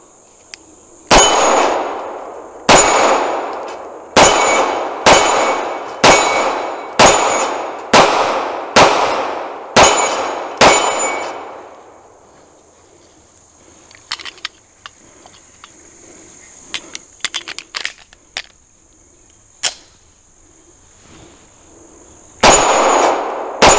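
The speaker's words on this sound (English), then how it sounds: "now we're gonna take a couple of shots with the SP101. I'm actually gonna start it in double action here." A Ruger SP101 revolver fired in double action: a series of about eight loud, sharp shots at an even pace, each ringing out briefly. After a stretch of quieter handling clicks, one or two more shots follow.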